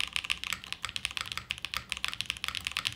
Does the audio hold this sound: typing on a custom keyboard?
yes